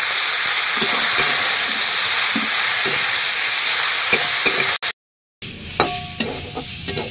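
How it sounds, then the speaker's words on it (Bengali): Leafy greens with green chillies, salt and a little turmeric fry steadily in a pan over a clay stove, giving a loud, continuous sizzle with light stirring knocks. The sound cuts out briefly near the end and then returns. "আমার শাকটা ভাজা হয়ে গেছে, এর ভিতরে সব কাঁচা লঙ্কা টঙ্কা সবই দেওয়া ছিল, সে দিয়েই ভেজে নিয়েছি একবারে।"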